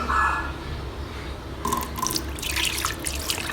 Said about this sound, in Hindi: इसमें पहले डालेंगे हम दूध